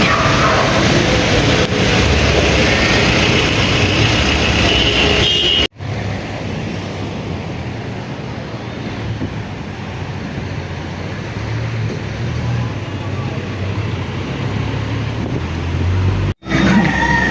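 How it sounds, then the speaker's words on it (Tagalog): Steady roadway noise from heavy traffic in Baguio, a continuous loud rumble and hiss of passing cars and vehicles close by, with two abrupt cuts in the sound. "Daming sasakyan"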